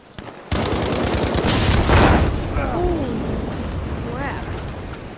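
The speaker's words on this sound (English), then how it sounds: "Not expecting the tank to blow up there." A tank blows up in the Battlefield V online shooter: a sudden loud blast that rolls into a long, rumbling boom with crackling debris. Scattered gunfire and game effects continue under it.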